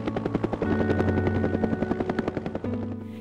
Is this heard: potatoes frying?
no